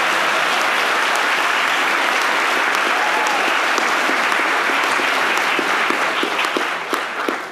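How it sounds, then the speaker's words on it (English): Sustained audience applause, many hands clapping steadily for several seconds before beginning to taper off at the end. "you clap for that?"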